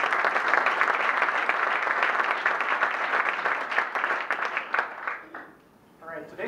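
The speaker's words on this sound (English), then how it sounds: "let's give one more round of applause to Governor Berg" A crowd at a Rotary Club meeting applauds loudly and steadily, the clapping thinning and fading toward the end.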